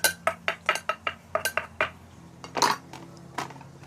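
Seasonings for Thai papaya salad are stirred in a dish, with a quick series of sharp clinks and scrapes of utensil against the bowl, then a few scattered knocks.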